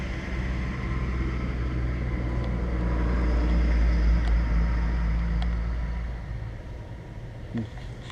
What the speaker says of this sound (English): there's a truck coming by